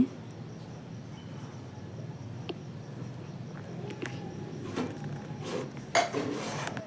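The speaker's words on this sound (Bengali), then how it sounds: "একটু লঙ্কা গুঁড়ো একটু গরম মশলা গুঁড়ো দিয়ে একটু নাড়াচাড়া করে নিচ্ছি" Spices with chilli and garam masala powder are stirred in a pan, faint soft clinks and scrapes of a utensil against metal, quiet and close with a low background hiss.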